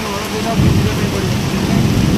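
Heavy rain pouring steadily during a monsoon downpour on a delivery worker's road, a dense loud hiss that stays constant throughout with no pauses.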